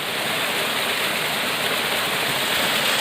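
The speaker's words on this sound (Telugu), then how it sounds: "ఇది జలపాతం బాగా ఉన్నప్పుడు హైట్ కనిపిస్తుంది చూసారా" A waterfall roars steadily in a rainy hillside setting, a dense unbroken rush of falling water that stays loud and even throughout with no voices.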